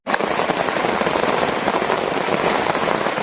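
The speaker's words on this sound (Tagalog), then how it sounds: "Lakas ang ulanan." Heavy rain drumming steadily on a campsite during a storm, a dense, loud, continuous patter that begins abruptly and holds without pause.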